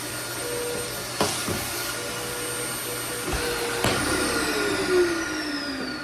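A Dirt Devil CV1500 all-in-one central vacuum system running, a loud continuous whooshing motor roar with steady tones and a few clicks and knocks from handling the hose.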